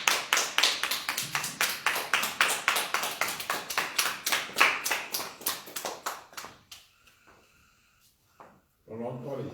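A church congregation claps hands together in a quick, steady rhythm of sharp, loud claps that run for several seconds, then break off into quiet with a few scattered sounds.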